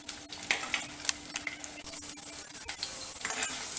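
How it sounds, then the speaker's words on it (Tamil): Raw banana slices fry in hot oil for a Chettinad vazhakkai varuval, giving a steady close sizzle with scattered stirring clinks and scrapes and no talk. "கொஞ்சம் கொஞ்சமாக போட்டு எண்ணெயில் போட்டு எடுத்துக்கோங்க"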